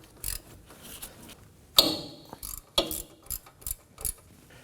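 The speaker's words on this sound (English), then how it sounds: "Using a 14mm socket and a small extension," A ratchet with a 14mm socket and small extension cracking loose hub bolts on a 2016-2020 Kia Sorento during front wheel bearing replacement, short clicking strokes and metallic knocks, close and fairly quiet.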